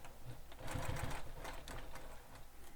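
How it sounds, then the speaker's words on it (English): A sewing machine back stitches along the bottom of a crossbody bag, running in a quiet, steady rapid chatter that speeds up briefly in the middle, close by and alone. "I'm just back stitching down here on the bottom"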